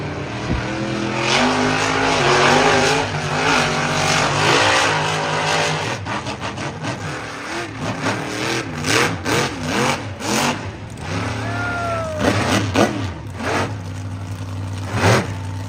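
A monster truck engine revs hard on a beach track in a continuous roar. Repeated throttle blips and surges rise and fall, loud and close, with no talk.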